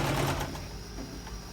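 A sewing machine stitching the seam of a shirt, a short, fairly faint burst of motor hum and needle clatter that slows and fades toward the end.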